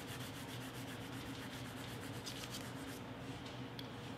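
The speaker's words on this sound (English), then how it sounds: "Keep rubbing until you see all the details that you want to see." Crayon rubbed back and forth over paper laid on a leaf, a steady close scratchy rasping in quick repeated strokes that runs the whole time and lightens near the end.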